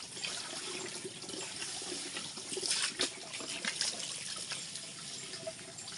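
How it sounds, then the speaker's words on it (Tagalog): Strong water gushes steadily from an outdoor tap or spout at a countryside bathing spot, a dense continuous rush with small splashy fluctuations, moderately close and without talk. "Ang lakas ng tubig, no?"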